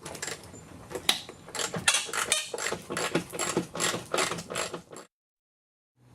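An Allen socket on a ratchet working the bumper cover bolts on a car with a 1.8T AEB/ATW engine, close rapid ratchet clicks in bursts for about five seconds, then near silence.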